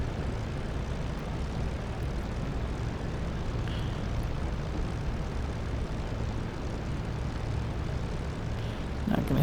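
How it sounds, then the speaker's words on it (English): A P-51D propeller engine in a flight simulator game idles steadily while taxiing, a low, even drone that holds constant throughout. "Idling around is a good way to heat the plane up."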